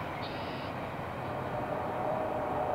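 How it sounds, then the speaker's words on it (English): A CSX coal train rolls past in New York as a steady, broad rumble with rail noise, fairly loud and continuous throughout. "a coal train"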